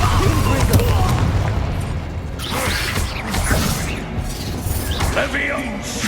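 Bombarda and Confringo spells burst in a Hogwarts Legacy fight, heavy booms and rumbling impacts layered with shouted combat voices and clattering effects.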